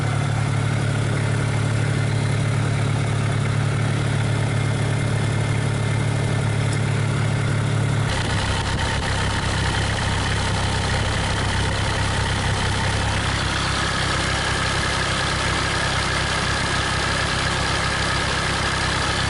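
Cummins diesel swapped into a Komatsu PC40 excavator, idling while warming up, a steady close rumble that shifts to a rougher, louder tone partway through and holds alone.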